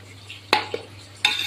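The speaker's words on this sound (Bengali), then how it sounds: "এই যে সবজি ভাজা হচ্ছে" Vegetables and potatoes frying in a pan over a stove while being stirred, giving a few sharp metallic scrapes and clatters of a utensil against the pan over a faint low hum.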